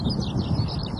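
A skylark singing over open grassland on a former airfield heath, a quick run of high warbling trills and chirps that carries clearly over low background rumble.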